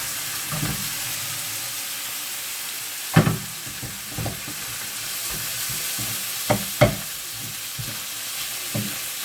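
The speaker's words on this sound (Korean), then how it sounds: "볶음밥을 해 먹으려고 하는 중입니다 이제 밥 들어갔습니다" Leftover cooked rice frying in a pan for fried rice, a steady soft sizzle broken by intermittent scraping and stirring clatters from a utensil, close by.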